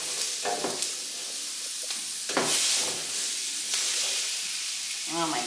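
Chicken drumsticks sizzle in a pan for butter chicken, a steady frying hiss with occasional stirring scrapes and louder bursts of spatter, close and continuous.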